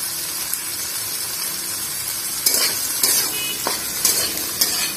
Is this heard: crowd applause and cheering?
no